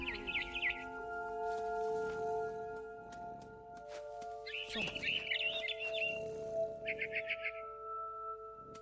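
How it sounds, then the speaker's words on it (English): A barn swallow in the game What Remains of Edith Finch gives three short bursts of bright chirping over quiet ambient music. Faint talking and soft thumps come in between the bursts. "It was a barn swallow going back to her nest."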